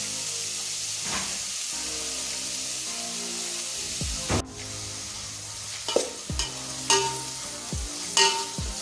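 Onions go into hot oil all at once for an egg pie, bursting into a loud steady sizzle with scattered utensil clinks and scrapes as the sautéing continues.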